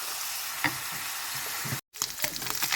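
Dried beef pieces for a stir fry fry to golden brown in a pan with a loud, steady sizzle. It breaks off in a sudden short silence, then the stirring and crackling pick up again.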